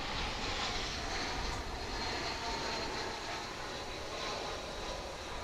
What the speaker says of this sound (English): So we welcome another United aircraft. Looks like an A319 to me.